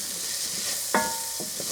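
Onions stirred in a hot pan for a turkey stuffing, a steady soft sizzle with one sharp spoon scrape near the middle and a few lighter scrapes after, close and fairly quiet with no talking.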